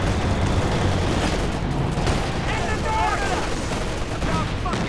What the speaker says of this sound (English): Here comes the land mattress.